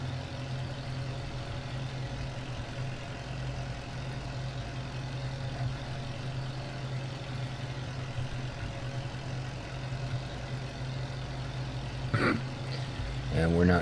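A tractor engine runs in the farming video game Farming Simulator 17, a low, steady idling hum with a constant drone, joined by a brief clatter near the end.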